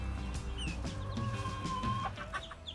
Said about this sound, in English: These eight chicks are the other chicks from the same hatch as Sweet Peas.